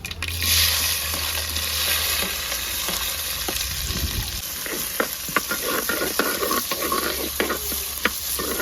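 Sliced onions frying and being stirred in hot coconut oil in a pan, with a steady close sizzle, scraping stirs and occasional sharp pops, with no voices.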